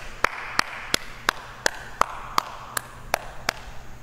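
During an online worship service, about ten crisp, evenly spaced claps ring out close by in a slow, steady rhythm over a low background hum.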